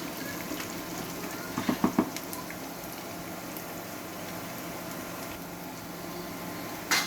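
Onions fry in oil in a pan, a steady close hiss and bubbling that runs without a break, with a few small pops and clicks near the start.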